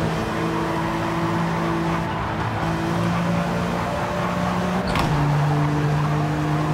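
A Maserati Merak races in Gran Turismo 7, its engine holding a loud, steady tonal drone that drops in pitch after a gear change, with other racing cars mixed in.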